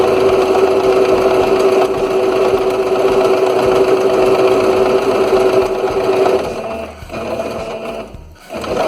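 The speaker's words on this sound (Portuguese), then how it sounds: "e sigo costurando" A sewing machine stitching fabric, a loud, close, continuous rapid whir with a steady tone that breaks into short stops and restarts near the end, no talking.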